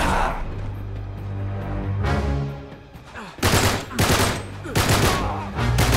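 Loud bursts of gunfire and a grenade blast in Uncharted 3 combat, rapid volleys of shots coming in several close, heavy clusters with short lulls between them.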